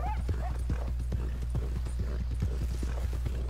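A horse ridden in Red Dead Redemption 2 Online, its hooves clopping in a steady, brisk rhythm close up, with a faint whinny-like tone near the start and a constant low hum underneath.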